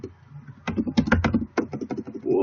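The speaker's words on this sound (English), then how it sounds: "you're going to type billing" Fingers typing on a computer keyboard while entering text into an Excel spreadsheet, a quick run of crisp close key clicks in uneven bursts with a short pause midway, no talking.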